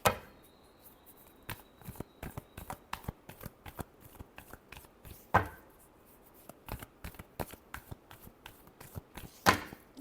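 Tarot cards shuffled by hand, a quiet close-up run of papery riffles and flicks in uneven bursts, with a few sharper slaps of the deck standing out.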